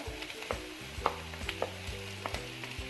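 Grated carrot and onion stirred in a frying pan for a chicken fajita pocket sandwich, a gentle sizzle with regular spatula taps and scrapes against the pan, close and even, no talking.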